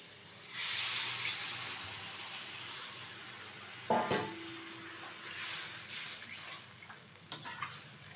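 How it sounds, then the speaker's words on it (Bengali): Water hits hot spice paste frying in a pan for an egg omelette curry, setting off a steady hissing sizzle that fades slowly, with two sharp utensil knocks partway through. "এখন এর মধ্যে দিয়ে দেবো পরিমাণ মতো জল"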